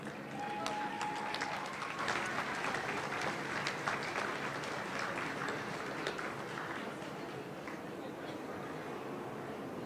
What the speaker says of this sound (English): let's give them a big Aussie cheer